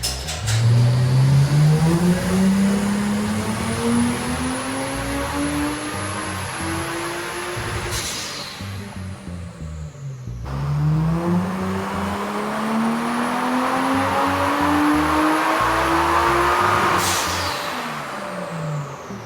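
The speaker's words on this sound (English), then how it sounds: "we've loaded it back on the dyno and we're ready to give it another run and see what happens" A Toyota Crown JZS171 with a 1JZ VVTi engine and front-mount intercooler revs on a dyno, climbing loudly through the range twice, each pull rising then dropping, with no talking.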